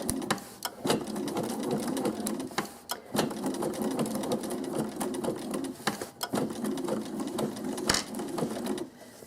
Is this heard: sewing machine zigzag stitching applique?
yes